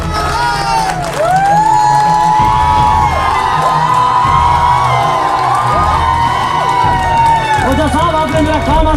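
Audience at a Hindi-Urdu poetry recital erupts in loud, sustained cheering and whoops with applause, while a voice talks over the crowd throughout.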